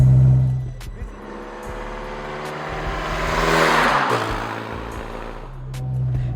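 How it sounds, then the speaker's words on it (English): A Honda CRX del Sol with a D16 1.6L VTEC engine revs up through the gears, its pitch climbing and dropping at each shift as it passes loud and near, then fading off. "you can hear the D16 going through the gears"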